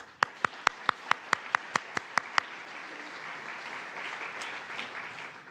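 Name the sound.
audience applause congratulating award winners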